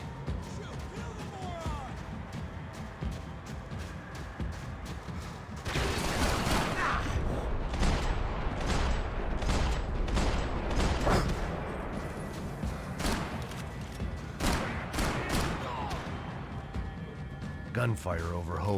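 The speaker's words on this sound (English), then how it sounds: "Gunfire over Hoboken." Gunfire rings out in the video game Max Payne, set in Hoboken. Bursts of sharp shots come in rapid clusters with brief gaps, loud and close, and a voice speaks over parts of it.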